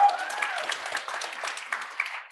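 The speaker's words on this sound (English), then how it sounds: "yes, round of applause" Applause from an audience at a startup accelerator demo day, fairly faint and slightly distant, a soft patter of clapping that stays even throughout with a brief tonal sound at the start.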